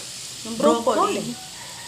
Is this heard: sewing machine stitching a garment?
no